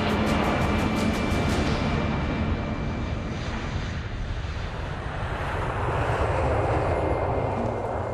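A passenger plane's engines roar steadily at Heathrow airport, a loud continuous broadband drone with a faint high whine and some wind buffeting, and no speech.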